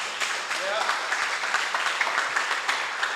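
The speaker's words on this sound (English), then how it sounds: "Give them a round of applause." Moderate clapping from guests at a reading clinic opening ceremony honoring parents and guardians, a soft, even patter of hands with some background voices mixed in.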